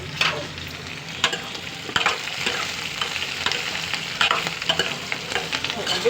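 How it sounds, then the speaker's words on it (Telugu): Ingredients for a bottle gourd curry frying in a pan, with a steady sizzle and intermittent stirring scrapes throughout, fairly close and moderately loud, no talking. "వేగుతున్నాయి"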